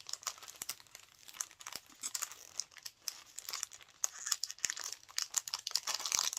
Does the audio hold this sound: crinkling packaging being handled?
yes